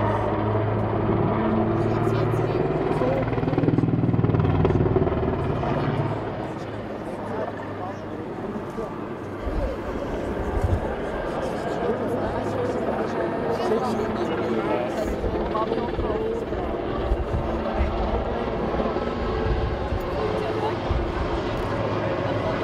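Helicopter at a Swiss open-day air show in Pfaffnau flying a tight high turn over the field, a steady loud rotor and engine drone throughout, with an announcer talking over it.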